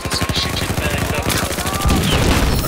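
Automatic gunfire from the video game Battlefield 4 rattles in loud, rapid, close bursts, with a brief heavier blast near the end.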